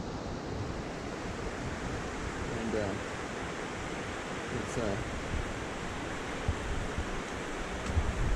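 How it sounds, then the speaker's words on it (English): A small stream flows downhill through a mossy forest on a hike near Milford, a steady close rush of water mixed with wind buffeting the microphone, and a voice speaks briefly. "a little ways in, nice little stream coming down through here"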